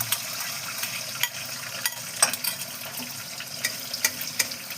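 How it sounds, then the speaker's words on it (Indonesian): Continuous crackling sizzle of an egg omelette frying in a hot pan, with scattered sharper pops and clicks throughout, fairly close and steady. "Selanjutnya nyong goreng ndok ya."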